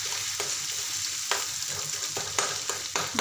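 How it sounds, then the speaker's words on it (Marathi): Coconut, garlic and onion paste masala sizzles steadily in hot oil, with several sharp stir-scrape bursts from the spoon; no talking. "खोबऱ्याचं पेस्ट आणि लसणाची पेस्ट व कांद्याची पेस्ट घालते व हे मसाले तेल सुटेपर्यंत छान असे मस्त परतून"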